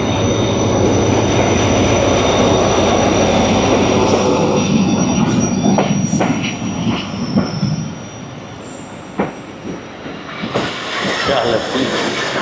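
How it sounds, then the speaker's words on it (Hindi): Shah Latif Express from Karachi to Mirpur Khas pulls into Jhimpir station on the up side, with loud continuous rumble and wheel squeal that eases as it slows, plus scattered clanks near the end. "और जमपीर पर अप साइड पर आ रही है 151 अप शाह लतीफ़ एक्सप्रेस"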